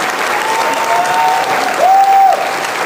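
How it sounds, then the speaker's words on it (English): Audience at a 2007 Miss Gay Missouri pageant applauding the top 10 contestants, loud continuous clapping with a few cheering whoops on top. "Let's give them all a round of applause because they were all very wonderful."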